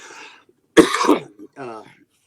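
A man gives a short burst of coughing and throat clearing in the middle of an interview, with quieter speech-like sounds before and after.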